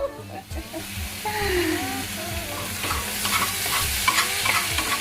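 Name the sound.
methi muthias sizzling as pan is moved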